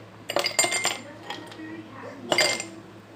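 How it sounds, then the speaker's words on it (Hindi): Ice cubes clink into a glass for a falooda dessert: a few bright, close rattling clatters in quick bursts, then a final clink, over a quiet kitchen background. "ये लीजिए, सबसे पहले हम इसमें मैं बर्फ़ ऐड करूँगी।"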